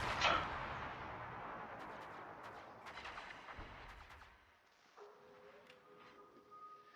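Heavy 203 mm naval guns of the cruiser Pensacola fire in a naval video game, a loud deep blast that rolls into a long fading rumble, followed by softer distant booms and a faint electronic tone.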